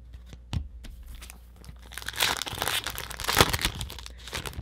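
A hockey card pack wrapper from a 2017-18 Upper Deck Series 2 box is torn open and crinkled up close, with bursts of crackling plastic that swell and grow louder toward the end, and no talking.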